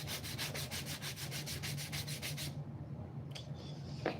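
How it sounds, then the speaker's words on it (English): A power sander works steadily across a wooden box lid for about two and a half seconds with a pulsing, gritty rasp, then cuts off, leaving a quiet room with a few faint handling knocks. "That thing's a little more aggressive than our hand sander."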